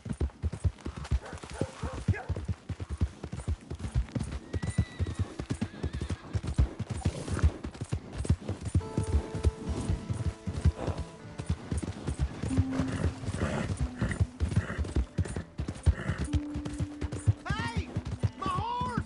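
Horse hooves clip-clop steadily in the Red Dead Redemption 2 video game, a quick even rhythm running throughout with occasional whinnies and bits of voice over the hoofbeats.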